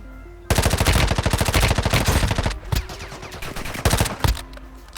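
Automatic gunfire in the mobile shooter game Warzone Mobile: a long, loud rapid-fire burst followed by shorter bursts and single sharp shots, close and dense, with no talking.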